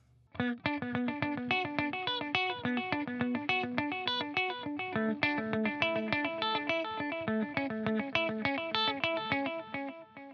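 Electric guitar picking a steady stream of notes, each repeating in a shimmering, echoing wash that blends into a continuous ambient pad.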